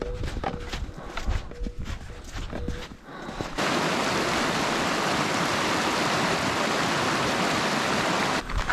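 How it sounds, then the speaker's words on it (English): A creek on a Sierra trail flows with steady, loud broadband rushing water; before that comes a few seconds of footsteps and movement on the trail. "We have one wet creek crossing left,"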